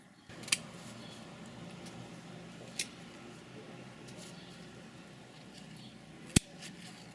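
Garden scissors snip flower stems during deadheading, three sharp, isolated cuts spread across a quiet outdoor background, the last one the loudest.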